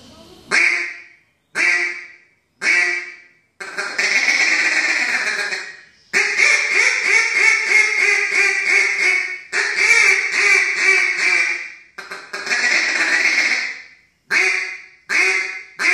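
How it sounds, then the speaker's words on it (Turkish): A DCK Max 4 duck call whistle, its inserts wrapped in Max 4 camo, blows loud, close quacks: three short single quacks, then long rapid runs of raspy quacking, then a few more short quacks. "Sesini deneyeceğim."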